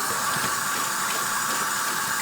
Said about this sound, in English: You're gonna use sink, and you're just gonna wash it out with soap and water.